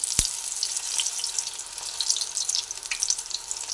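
Spinach fritters frying in hot oil, a steady soft sizzle and crackle close by, with a brief low knock near the start and no talking.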